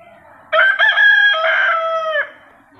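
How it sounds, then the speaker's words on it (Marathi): A rooster crows once at a temple, a loud, close, drawn-out call lasting under two seconds and rising abruptly out of quiet surroundings. "आणि आई एकविरेचं वाहन कोंबडा दिसतोय।"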